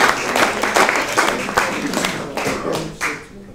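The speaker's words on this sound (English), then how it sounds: "you all deserve a round of applause." Audience applause at the close of a community event, a dense, sustained wash of many hands clapping at moderate distance, with a few louder individual claps standing out and the sound fading near the end.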